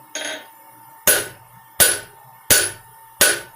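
A blacksmith hammers hot steel into a leaf hook on an anvil, five sharp ringing blows with a soft first tap, then four evenly spaced loud strikes, each decaying quickly.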